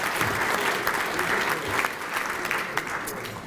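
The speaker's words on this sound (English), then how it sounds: "Give them a round of applause." A dinner audience at a school athletics hall of fame ceremony gives the catering staff dense, sustained applause that stays loud throughout, with murmuring crowd noise mixed in.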